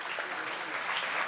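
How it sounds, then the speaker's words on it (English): Applause at a lecture or talk event, broad steady clapping from an audience filling the short moment without a break, moderately loud and without speech over it. "Please give a big round of applause."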